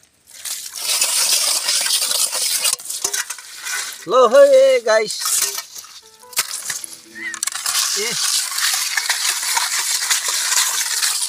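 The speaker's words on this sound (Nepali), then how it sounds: "ढुङ्गा माटोले हामी बालुवाले हामी भाँडाहरू मस्काउँछौँ।" Metal dishes scrubbed by hand with sand, stone and soil instead of soap: a steady, gritty scraping that runs almost without break and stays fairly loud, with a short spoken phrase cutting in partway through and another brief voice near the end.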